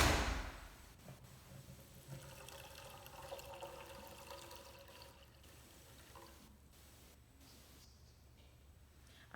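Two cups of water pour onto elderberries in a pot, a soft splashing gush at the start that thins into a quiet trickle and fades to near silence.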